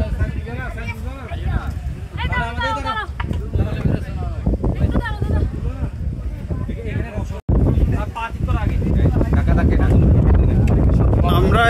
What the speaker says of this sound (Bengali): প্রচন্ড বাতাস, এখানে